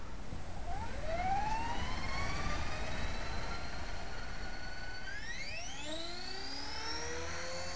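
An HK 450GT RC helicopter lifts off on a blustery day after a rebuild, its whining rotor and motor pitch sweeping steadily upward, then jumping higher as it spools up, loud and close over a constant wind rush.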